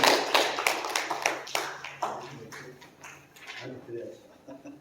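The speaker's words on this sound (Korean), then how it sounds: "우리 하나님 앞에 감사하는 의미로 박수" A church congregation at a Sunday worship service gives a round of applause, a burst of sharp, uneven claps that is loud at first and gradually thins and fades.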